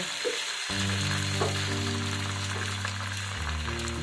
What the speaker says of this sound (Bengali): গিলাসের মধ্যে ডিমটাকে একটু ফেটিয়ে নিয়ে আমি ফ্রাইং প্যানের মধ্যে দিয়ে দেব